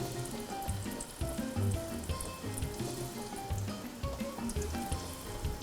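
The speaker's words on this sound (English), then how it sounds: "And I'm going to start adding the meat to the pan." Pieces of beef stew meat sizzle and crackle as they brown in a hot pan, a dense, steady frying hiss with scattered pops, close and fairly loud, no voices.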